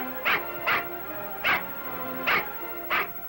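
Milou, a small dog, gives five short yappy barks in a steady, evenly spaced rhythm, fairly close against a quiet background.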